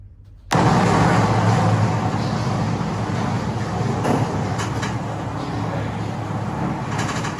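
Cabin noise aboard the Sentosa cable car in Singapore, a steady, loud broadband rumble and whoosh that starts abruptly and continues with faint creaks and clunks from the moving gondola.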